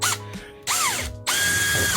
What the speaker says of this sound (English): let's try our drill here.